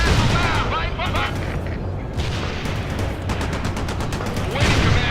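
Missile launches and gunfire crack and boom in a modern military strategy video game with tanks, coming as dense, repeated blasts and rattling bursts over steady battle noise.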